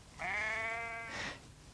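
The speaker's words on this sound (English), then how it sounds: "Sam, his dad, and Bess, the sheepdog, were counting in the sheep from the river field" A single sheep in a river field on a farm gives one clear, wavering bleat, close and fairly quiet, followed by a short second call.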